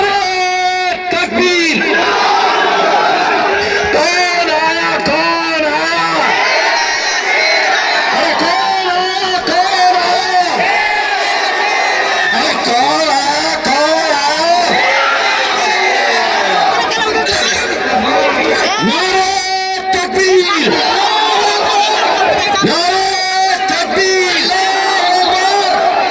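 A large crowd at an AIMIM political rally chants slogans loudly and continuously, with massed voices answering in call-and-response waves and rising cheers.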